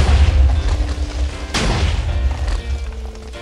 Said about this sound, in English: Doc repurposes their explosives for surface-to-air cannons and blasts them out of the sky one by one